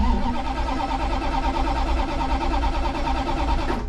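A 1965 Plymouth Satellite's starter cranks steadily and loudly, a continuous rhythmic churning of the engine turning over without catching, then cutting off abruptly just before the end.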